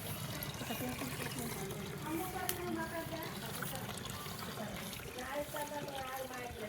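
Water left from washing rice is poured out in a steady trickling, splashing stream that runs without break at moderate loudness.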